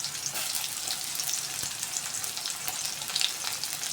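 Onion and green chili tempering in hot oil in a kadhai for a spicy vermicelli upma, a continuous bright sizzle crackling close by, with a few brief spits and pops and no talking.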